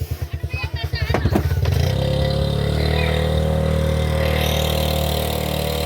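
A nearby motorcycle engine chugs in quick pulses, then rises into a steady, loud drone that holds to the end.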